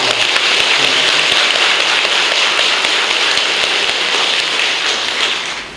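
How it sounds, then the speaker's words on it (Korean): A congregation at a church ordination service for deacons, elders and kwonsa gives vigorous, sustained applause to the choir, a loud dense patter of many hands that fades slightly at the end. "우리 힘차게 한번 박수 한번 치십시오."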